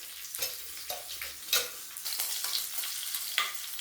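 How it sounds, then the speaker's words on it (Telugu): Peanuts, chana dal, dried chillies and cumin frying in a pan, giving a light crackling sizzle with brief stirring scrapes and small pops over nearly four seconds, no voices. "వేరుశనగ పప్పు, కొంచెం పచ్చెనగపప్పు, ఎండుమిరపకాయలు, జీలకర్ర ఇట్లా దోరగా ఈ మాదిరిగానే వేయించుకోవాలి"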